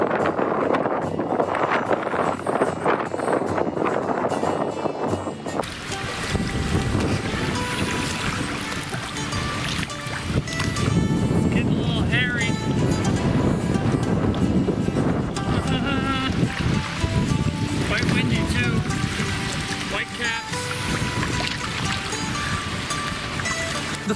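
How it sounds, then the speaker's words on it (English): Gusty wind buffets the microphone on an Algonquin lake during a canoe trip, a steady loud roar that keeps on with no break, with faint sloshing water under it. "It's gonna be very gusty."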